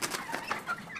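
A small buff hen clucks softly in a short series of quiet, close clucks, with no voices over them.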